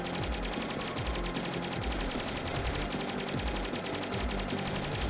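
Pink shooter weapons fire nonstop in the video game Stellar Interface, a loud, dense, rapid machine-gun-like stream of shots with a steady pulsing rhythm throughout, and no talking.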